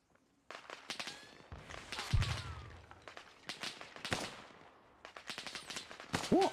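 Gunfire in the military game Arma Reforger, bursts of sharp cracking shots in irregular clusters, some rapid like machine-gun fire, moderately distant with quiet gaps between volleys.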